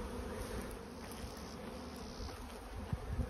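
Honey bees buzzing around beehive colonies, a steady dense hum of many insects close by, with some handling noise near the end.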